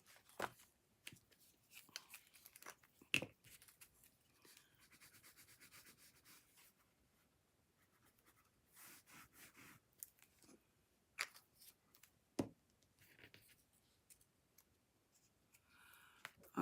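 Quiet, intermittent scissor snips and paper rustles as a card edge is trimmed, with a few sharper cuts spread across a mostly hushed stretch.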